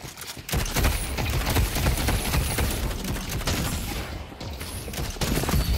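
Sustained rapid gunfire from the Warden guard's weapon in the video game Deadlock, a dense, loud, continuous stream of shots with a brief gap near the start.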